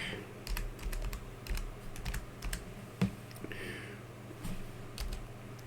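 A computer keyboard clatters with irregular bursts of quick, light keystrokes, close and fairly quiet, with one sharper tap standing out midway through.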